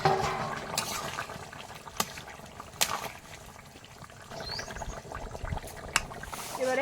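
Water pours into a pan of pumpkin and new potato curry being cooked with fish, a broad splashing wash with a few sharp clinks, steady and close for several seconds.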